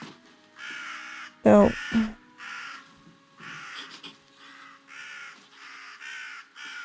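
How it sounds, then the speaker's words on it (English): Crows caw loudly and repeatedly in the REKA video game, a steady series of harsh calls across the whole stretch, with a brief louder thump near the start and a voice speaking briefly. "These crows are so loud."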